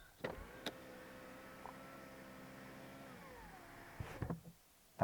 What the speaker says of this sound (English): The motors for the electric windows on this car are just so quiet.